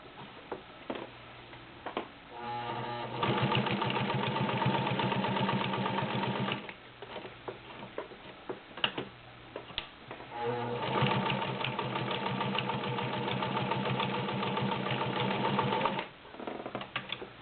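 A vintage Penncrest sewing machine with 44 stitch patterns sews through several layers of Levi's denim in two long bursts of fast, even mechanical stitching, with short quieter pauses and clicks between them.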